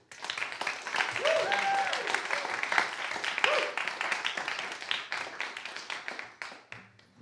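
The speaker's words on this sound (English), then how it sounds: "Can we just have one more round of applause for all of the poets?" An audience applauds the poets at a poetry slam, with a burst of clapping and scattered taps that swells and then thins out, with some voices mixed in.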